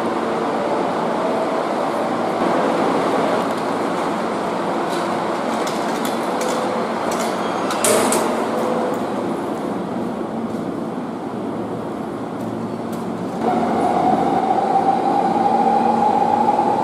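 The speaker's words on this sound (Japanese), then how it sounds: "回送電車が発車します。" An out-of-service Tobu 10030 series electric train pulls out of a Japanese station, a steady loud rumble of wheels and motors with a rising motor whine near the end.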